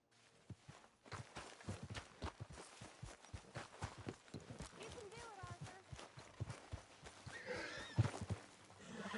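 Horse hooves clip-clopping at a walk in the video game Red Dead Redemption Two, a steady series of moderately close thuds with a short whinny-like sound, while someone talks over them.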